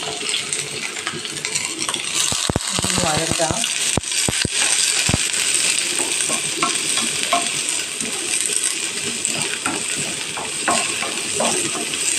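Small shallots fry in hot coconut oil in a pan with a loud, continuous sizzle, punctuated by sharp clinks and scrapes of a spoon stirring against the pan.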